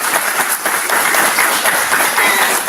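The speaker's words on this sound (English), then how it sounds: "please give them a round of applause" An audience at a panel on equitable funding breaks into sustained applause, a dense, loud wash of many hands clapping that runs steadily for a few seconds.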